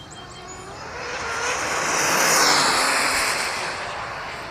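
Hobao VTE2 RC car running on 6S makes a fast speed pass, a whining rush that swells louder toward the middle and fades away, with no talking.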